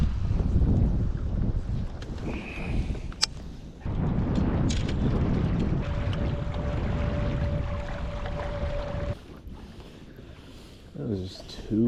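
Strong wind of about 9 miles per hour buffets the microphone outdoors while winter fishing, a steady, rumbling roar for most of the clip, easing off near the end.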